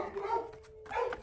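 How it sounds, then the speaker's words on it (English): Dogs bark in two brief bursts, faint and somewhat distant, with quiet room sound between them. "I'm sorry if you can hear the dogs barking."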